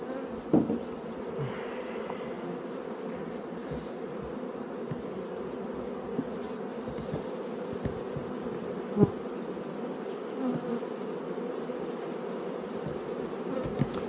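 Honeybees at an opened hive make a dense, steady buzzing that stays close and constant throughout, with a few brief louder passes as individual bees fly near.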